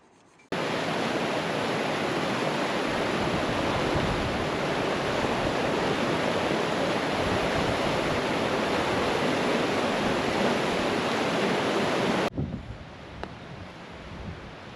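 A river rushes along its bed on a trek from Nar toward Upper Mustang over the Terila Pass in Nepal: a loud, steady, close roar of water that fills the clip and drops away sharply near the end.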